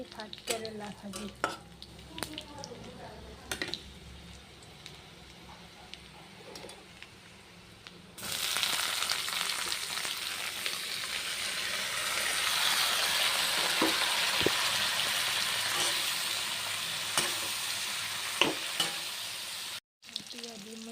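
Sliced bitter gourd is dropped into hot oil and bursts into a loud, steady sizzle partway through, following quieter clinks and handling sounds, then a utensil stirs it until a brief cutoff near the end.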